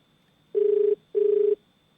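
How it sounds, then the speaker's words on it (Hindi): A telephone ringback tone sounds as a call to a government hospital official in Kaithal goes unanswered: two even, buzzing rings, each about half a second long, separated by a short gap, clear and alone. "सीएमओ साहब के फोन पर लगातार घंटी बज रही है"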